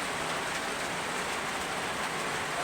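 Heavy rain pouring down in a rural coconut-growing province, a dense, even hiss of drops drumming on surfaces with no letup.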